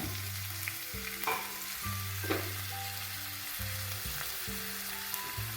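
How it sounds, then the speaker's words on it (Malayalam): A large onion fries in hot oil for a Kerala coconut-milk egg curry, a continuous close sizzle with occasional stirring over soft background music. "ഒരു വലിയ സവാളയാണ് കേട്ടോ ഇതിലേക്ക് ഇടുന്നത്"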